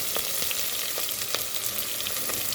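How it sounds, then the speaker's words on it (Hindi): Onions shallow frying in a pan crackle with a constant close sizzle, broken by a few soft stirring scrapes. "ये देखिए, हमारा शैलो फ्राई हो गया प्याज।"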